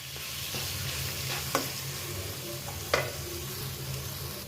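Chopped onion, chili, ginger and garlic fry in a pan while being stirred, giving a steady close sizzle with a couple of sharp scraping knocks from the spoon and no talk.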